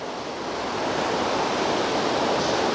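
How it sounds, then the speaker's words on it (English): A creek flows steadily in cold, snowy surroundings, a continuous close broadband rush of water that grows slightly louder and stays unbroken throughout. "there's this beautiful flowing creek"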